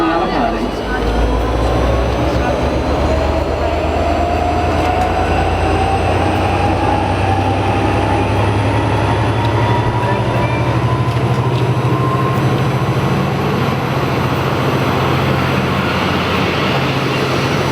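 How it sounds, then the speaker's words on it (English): Train rumbling loudly and steadily close by as it departs a station toward Waurn Ponds, with rising whine from the motors and wheel noise as it pulls away. "The train to Waurn Ponds now departing."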